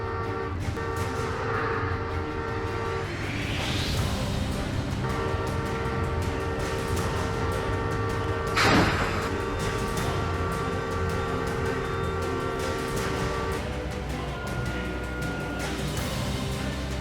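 A high-speed train rumbles steadily past, close and loud throughout, with a long horn tone sustained underneath and a sharp swell of rushing noise midway through.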